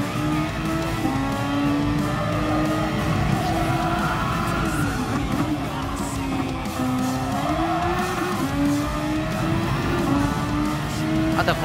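A race car engine from the video game Gran Turismo Sport, a steady high-pitched whine rising and falling as it shifts through revs, with tire squeal mixed in and no talk.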